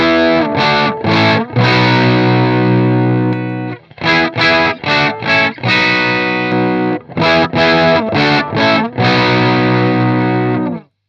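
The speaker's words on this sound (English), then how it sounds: "So there's a little bit of overdrive and it thickens up." An electric guitar runs through a Thorpy FX Veteran silicon fuzz pedal set for low gain into a Marshall amp, giving a thick, mildly overdriven tone as sustained chords ring out in several loud strummed bursts separated by short pauses.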